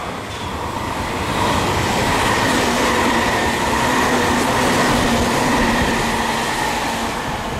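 A loud, steady roar of a Tobu 60000 series electric commuter train running at speed through Tsukada station nearby, with a continuous rumble and rail noise for several seconds and no voices.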